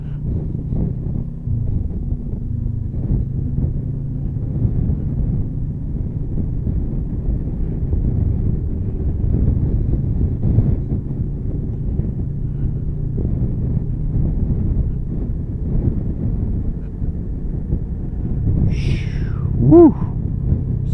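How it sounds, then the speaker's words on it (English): Steady low wind roar buffets the microphone while riding a motorcycle along a winding mountain road in Norway, continuous and fairly loud throughout with a brief higher tone near the end. "We're getting less wind now at least."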